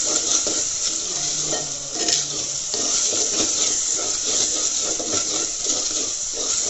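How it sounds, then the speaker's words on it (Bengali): Ground spices (turmeric, chili, salt, cumin and coriander) are stir-fried in a pot for handi mutton, giving a loud, constant sizzle with repeated stirring scrapes of a spoon against the pan. "এখন এটাকে ভালো করে আমি নেড়ে কষিয়ে নেব একটু"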